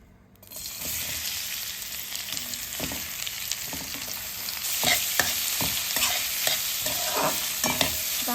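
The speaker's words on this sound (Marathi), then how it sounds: "कढई गरम झाली, आपण तेल टाकूया." Onion tossed into hot oil in a kadai sets off a loud, continuous sizzle and crackle, with occasional stirring scrapes on top, close and steady throughout.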